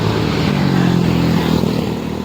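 Motorcycles roar past on a roadside, a loud continuous engine drone with low rumbling harmonics that stays close throughout and eases slightly toward the end.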